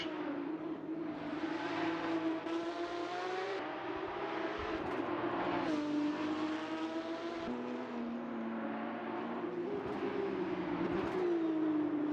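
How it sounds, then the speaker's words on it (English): Porsche 911 GT3 Cup race cars in Assetto Corsa at Mid-Ohio, a continuous loud engine drone with rising and falling pitch as the cars accelerate and shift, steady throughout with no voices. "Just to listen to these cars"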